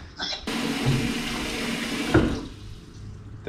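Water gushes from a tap into a cooking pot being filled to boil blue swimmer crabs. A steady, close rush lasts about two seconds, then cuts off with a clunk and fades into quiet room noise.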